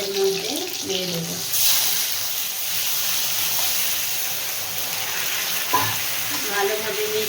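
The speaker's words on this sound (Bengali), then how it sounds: "এই সময় সেদ্ধ করে রাখা ডালটা আমি এর মধ্যে দিয়ে দেব।" Boiled dal is poured into a pan of fried chalta, a rushing, watery pour and hiss over sizzling oil, close and steady, with brief stirring knocks and a voice speaking at the start and end.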